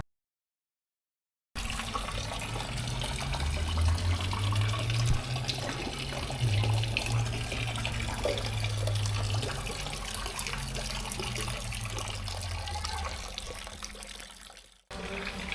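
Water runs steadily out of an old engine block as it drains, a continuous splashing trickle that stays fairly loud and even for most of the stretch before cutting off near the end.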